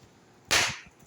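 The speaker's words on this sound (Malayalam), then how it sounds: "കണ്ട നല്ല പടക്കം പൊട്ടിക്കുന്നുണ്ട്." A single small firecracker bursts with a sharp, loud crack that decays quickly into a short rumble, with quiet background before and after.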